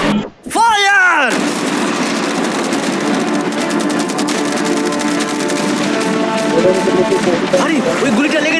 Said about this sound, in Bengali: অনেক ফায়ারওয়ার্কস, অ্যারো এবং ক্যাটারপুলস, এই সব একসাথে তোমার ইয়টের দিকে এখন ছোড়া হবে।